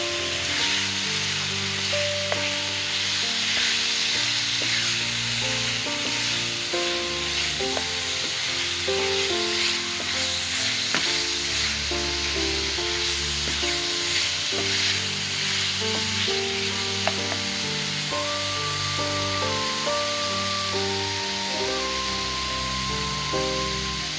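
Half a kilo of washed, chopped chicken liver frying in a spiced masala pan, with a steady, continuous sizzle and occasional stirring scrapes, close and fairly loud, with no talking.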